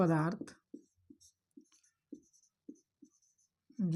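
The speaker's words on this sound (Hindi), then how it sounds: "देखिए इसका डिफिनीशन लिख देते हैं" A chemistry definition being written out by hand in short, separate strokes and taps with brief pauses between them, and a voice speaking briefly at the start and end.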